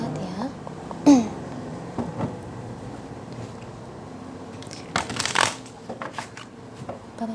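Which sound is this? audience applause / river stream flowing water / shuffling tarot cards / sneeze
shuffling tarot cards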